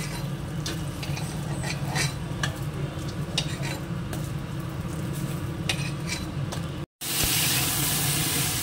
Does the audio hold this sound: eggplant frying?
yes